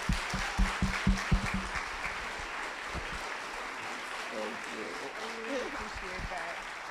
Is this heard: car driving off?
no